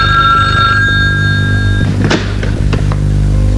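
An old telephone bell rings steadily for nearly two seconds, loud and close, then stops; a few clunks and knocks follow, like a receiver being lifted.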